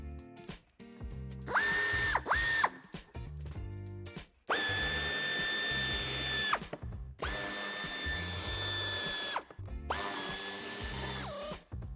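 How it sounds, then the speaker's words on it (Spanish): Power drill or driver backing out the wheel arch liner screws on an Audi A5 Sportback (F5), four separate whirring bursts of varying length, close and loud, with clicking and handling noises between them. "A continuación quitaremos los tornillos de ambos pasos de rueda y de la parte inferior"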